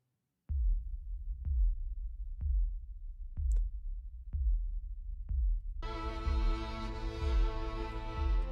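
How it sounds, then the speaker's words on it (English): Deep booming percussion hits from a sample library repeat at a slow, steady pace like a heartbeat, about one per second, before a thick sustained chord swells in over them. "Almost like a slow, like heartbeat type thing."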